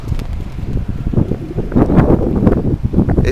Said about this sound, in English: It's now cold and windy and raining